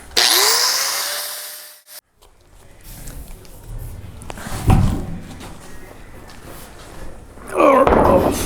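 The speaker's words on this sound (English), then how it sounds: "You're just going to grind it nice and smooth here, cut it off nice and smooth before I put that on." A metal tab on the roof panel of a 1967-72 Chevy truck, ground off with a power grinder during rust repair, heard as loud, close, high whining bursts at the start and end, separated by clunks and handling noise.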